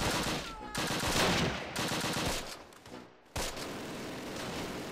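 Rapid bursts of gunfire aimed at a tower in the Close Combat wartime strategy game, dense crackling volleys with brief pauses, loud and continuous with no talk over it.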